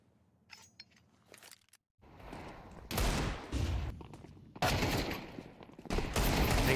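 Gunfire from an AK rifle in an esports match, with sharp bursts of shots after a quiet, faint opening, the fire growing dense and loud in repeated volleys.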